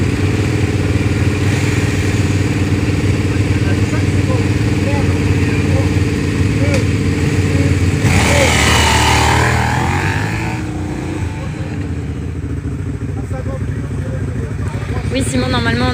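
Motorcycles sit at the start of a special stage at the Rallye de Charente in Anville, engines idling and revving loudly up close with a sharp rev burst midway, while people talk over the noise.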